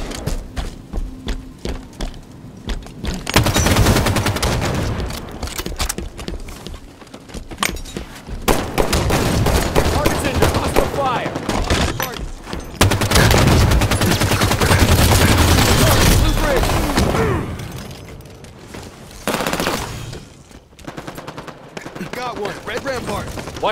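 Team slayer match of Halo 5 multiplayer on Xbox Live: rapid bursts of loud game gunfire, including shotgun blasts, come in heavy clusters between brief lulls, with voices talking over parts of the action.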